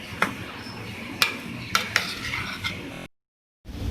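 A spoon stirs moong dal samosa filling with chopped coriander and mint in a pan, giving several distinct scraping clinks against the metal over a steady low background, then a brief silence before the noise returns.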